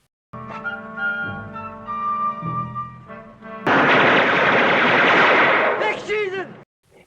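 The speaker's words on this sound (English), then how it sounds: "the guards notice him and open fire" Guards in watchtowers open fire on an escaping prisoner in daylight, a loud dense burst of gunfire erupting after a stretch of tonal music and continuing for several seconds.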